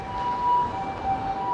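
An emergency siren, probably an ambulance, wails steadily through a street in Shin-Osaka, Japan, its tone held and swelling slightly against city background noise, fairly close, with no talk over it.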